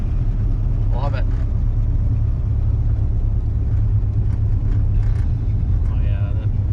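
A 1957 Ford Ranchero with a 428 engine drives along, its low engine rumble droning steadily and close, while people talk over it.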